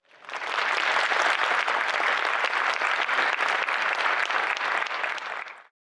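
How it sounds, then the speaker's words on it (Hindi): A large audience at a spiritual talk claps loudly and steadily for several seconds, dense applause rising quickly and cutting off at the end. "मैंने तालियां सुनी बहुत सारी"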